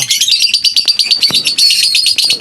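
Lutino opaline pet bird chicks give rapid, high, overlapping chirps in quick bursts, close and loud, with no talking.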